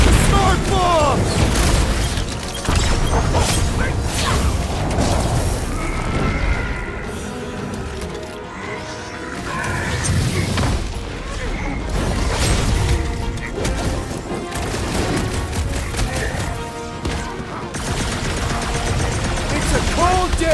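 Smart bomb explosions and gunfire in the Marvel's Guardians of the Galaxy video game, a dense battle of booms, crashes and rapid shots, loud and continuous with voices shouting over the chaos.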